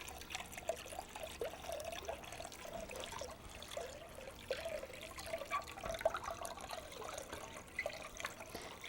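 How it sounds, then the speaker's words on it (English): Water being stirred into a vinegar and canning-salt pickling brine, with a soft, continuous trickling and sloshing of liquid at close range and small irregular splashes throughout, no voices. "stir in 8 cups of water"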